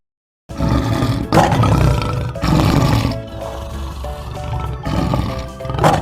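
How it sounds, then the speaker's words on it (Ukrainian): A lion roars in several long, loud, rumbling bursts separated by short breaths, close and dominant with no speech over it. "Лев."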